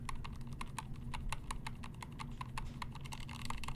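Mechanical keyboard fitted with NovelKeys Silk and Dry switches being typed on, a brisk irregular run of crisp clacky keystrokes, close and steady over a low background hum.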